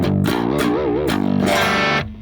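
Low electric guitar tuned to drop G plays chunky chords and a wobbling bent note, with mild crunchy low-gain drive and a mid-heavy tone, ringing out before stopping.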